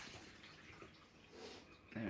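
Liquid pours off soaked mushrooms into a jug: a faint, steady trickle and splash, with quiet speech nearby.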